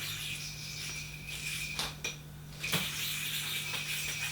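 A steady whirring hiss of a spinning yo-yo bearing, not a quiet one, with a few brief clicks and ticks midway, constant and close.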